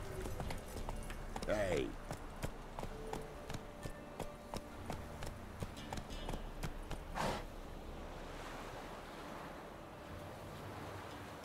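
Roach the horse's hooves clip-clop steadily in The Witcher 3, a regular fairly close rhythm of knocks over a windy, surf-like background, with a brief voice calling out once.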